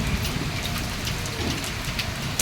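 Steady rain pours outdoors during a monsoon-like spell at an Odisha market, a dense continuous hiss of drops striking wet surfaces and standing water, with no voices over it.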